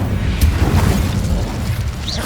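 A fiery Incendio spell blast from a magic video game lands as a loud, rumbling boom with a crackling burst, close and sustained, with game sounds around it.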